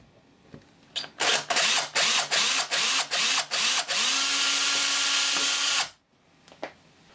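A power drill whines in about eight quick bursts, then runs in one long continuous spin boring a hole in a wall before cutting off, loud and close.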